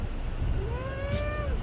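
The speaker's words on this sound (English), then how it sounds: "Right, Mr. Meow Meow? Say what up to everybody." A pet cat outdoors gives a single drawn-out meow in the middle of the clip, heard close over steady wind and background noise.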